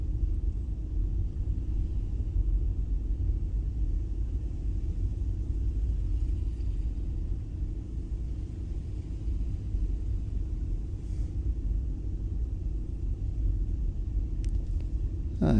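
A car rolls slowly down a narrow road toward Petit Bot Bay on Guernsey, a steady low engine and tyre rumble heard from inside, even and unbroken throughout.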